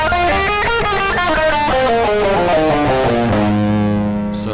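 A distorted electric guitar climbs and then descends a Lydian mode scale in steady single notes, loud and close, settling on a sustained low note.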